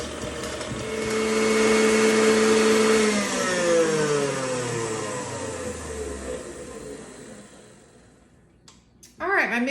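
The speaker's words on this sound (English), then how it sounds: "we're gonna keep on going with our mixer until we have butter" Stand mixer with its attachment churning cream into homemade butter, a steady loud motor whir with a falling pitch that winds down partway through, followed by a brief clatter near the end.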